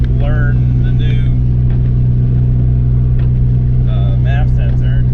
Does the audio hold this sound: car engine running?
yes